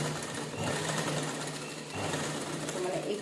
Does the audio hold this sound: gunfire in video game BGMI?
no